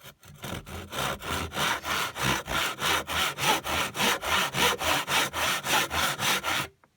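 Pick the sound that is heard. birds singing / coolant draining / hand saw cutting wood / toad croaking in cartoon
hand saw cutting wood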